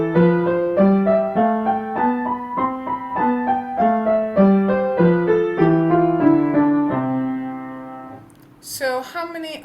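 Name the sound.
piano scales, left hand crotchets, right hand quavers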